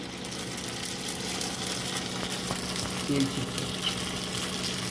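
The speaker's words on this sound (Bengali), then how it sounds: "পাঁপড়গুলোকে ভেজে নিই, মানে ফুচকাগুলোকে ভেজে নিই। তেল একদম গরম হয়ে গেছে।" Fuchka shells deep-fry in very hot oil, a dense steady bubbling sizzle close by with a low background hum, and no one talking.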